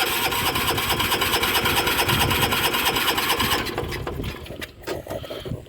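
A 1985 John Deere 212 lawn tractor engine runs with a rough, loud, close mechanical clatter for several seconds, then falters and dies down into sputtering, uneven knocks as it stalls.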